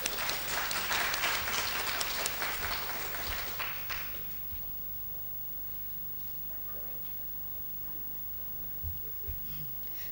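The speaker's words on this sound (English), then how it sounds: "Ladies and gentlemen, can I please have another round of applause?" Conference audience applause rings out loudly for about four seconds, then fades into quiet room tone with faint rustling and a few small knocks.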